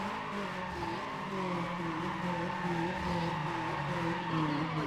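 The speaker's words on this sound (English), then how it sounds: "Oh wow. Okay, incredible burnout." Honda drag car in Need for Speed ProStreet doing a sustained tire burnout, with continuous loud squealing rubber over a steady droning engine, close and unbroken throughout.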